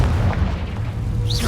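A Confringo fire spell explodes in Hogwarts Legacy, a deep rumbling boom that fills the short moment with sustained low roar and a faint whistling trail near the end.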